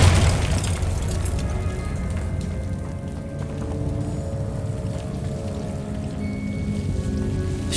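A Confringo blasting spell explodes in Hogwarts Legacy, a deep boom that fades into a steady rushing, rain-like roar lasting several seconds.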